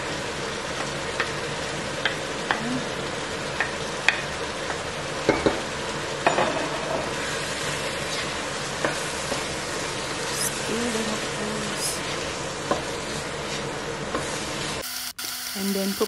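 Carrots and paprika sizzle steadily in a pan for lasagne sauce, a continuous bright frying hiss with occasional pops and stirring scrapes.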